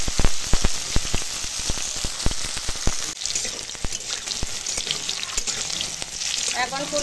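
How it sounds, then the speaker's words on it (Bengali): Cauliflower pieces sizzling in hot oil, with dense crackling and popping bursts that are loud at first and settle into steadier spitting, no voices. "এখন তেল গরম হয়ে গেছে, আর এই ফুলকপিটা একটু ভেজে নেবো হালকা করে।"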